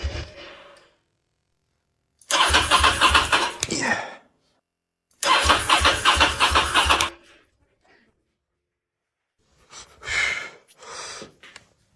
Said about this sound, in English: I'm going to try to start it now.